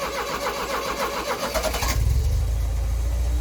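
A car engine cranks with a rapid whirring starter, then catches and settles into a deep, steady idle, close and fairly loud, with no talking.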